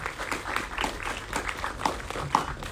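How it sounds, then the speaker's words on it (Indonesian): Scattered, moderate applause from attendees at a film press conference, individual claps audible in an uneven patter rather than a dense roar. "Tepuk tangan buat Prilly sekali lagi teman-teman."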